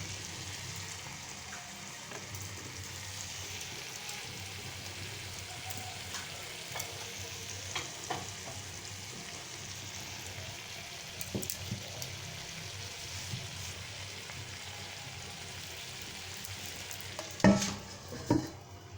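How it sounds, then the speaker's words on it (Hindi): Oil hisses and sizzles on a hot coal set beside Lahori tawa keema to smoke it: a steady, close frying hiss with faint clinks, and a couple of sharper pops near the end. "इस चूल्हे के ऊपर हमने हल्का सा ऑयल डाला है, उसकी वजह से इसमें धुआं बनेगा"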